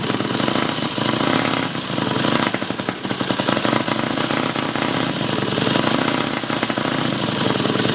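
A Mini Hog 70 mini bike engine runs steadily and loudly throughout, a continuous buzzing small-engine drone with a fan blowing nearby and no talk.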